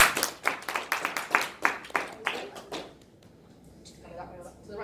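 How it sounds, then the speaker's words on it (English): An audience claps in a short burst of applause at a talk, about a dozen sharp claps over three seconds that then fade into quiet room noise. "Round of applause."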